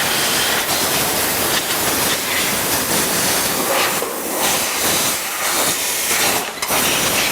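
A compressed-air nozzle blasts dust off a zero-turn mower. The hiss is loud, close and continuous, with slight surges and dips in force.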